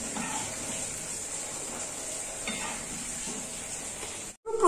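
Palm fruit fritter batter (taler bora) frying in hot oil in a wok, a steady close sizzle and bubbling hiss running throughout without talk, cutting off abruptly near the end.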